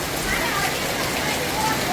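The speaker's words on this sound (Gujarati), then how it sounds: "હવે આપણે જોઈ ઉપરથી વરસાદનો નજારો" Steady rain falls in Surat, a dense, even hiss of drops filling the whole stretch without pause, close and fairly loud, with no voices over it.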